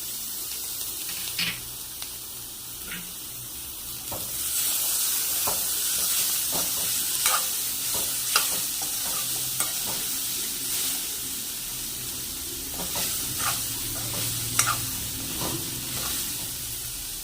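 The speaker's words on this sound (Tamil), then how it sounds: "இந்த ஸ்டேஜில் நம்ம எடுத்து வச்சுருந்த உருளைக்கிழங்கு இதோட மிக்ஸ் பண்ணிக்கிடுவோம்." Beetroot and potato stir-fry being stirred in a pan, a steady close sizzle with repeated scraping and clinking strokes of a spoon across the whole stretch, no voices.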